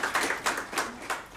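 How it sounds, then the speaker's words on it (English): Warm-up applause from an audience at a Kenya–Indonesia business forum, a brief patch of scattered, fairly faint clapping with irregular claps and no speech. "we let's give them a warm-up applause also"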